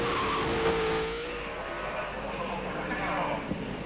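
TVR Tuscan race cars in a 1991 Tuscan Challenge race, engines droning steadily with some tyre squeal, under continuous commentary.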